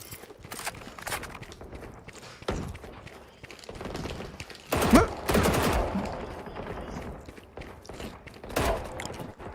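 Gunfire from Valorant during a VCT Pacific Stage 1 playoff esports match: scattered shots and rapid bursts mixed with in-game footsteps, peaking in a loud flurry midway, with faint voices underneath.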